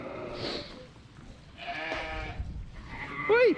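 Farm ewes bleating in a few wavering calls, moderately close, over low farmyard background noise.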